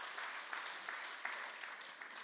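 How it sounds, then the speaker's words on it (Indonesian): An audience claps together during a church talk, a steady patter of many hands held at an even level and heard from some distance across the room for a couple of seconds. "tepuk tangan dulu dong."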